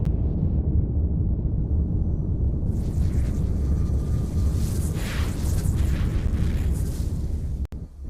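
Deep rumbling boom of an abyssal gate activating in the space game Eve Online, a heavy sustained low roar with a swelling airy whoosh layered above midway, ending in a sharp cutoff click.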